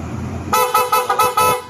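An aftermarket dual horn on a Honda Winner X 150 motorcycle sounds loud and close in five quick rhythmic toots, following a moment of idle hum.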